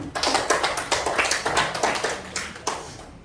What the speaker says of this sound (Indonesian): tepuk tangan untuk Nadia dulu